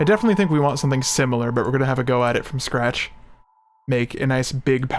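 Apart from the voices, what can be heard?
No distinct noise like a dog, phone or traffic.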